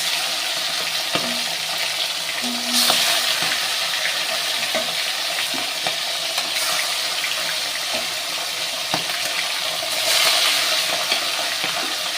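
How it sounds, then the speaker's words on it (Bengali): Fish coated in salt and turmeric frying in hot oil, a steady close crackling sizzle that carries on throughout with occasional soft clatters and louder spurts as pieces settle, no voices. "তেলও গরম হয়ে গেছে তো আমি এক এক করে মাছগুলো ভেজে নেবো"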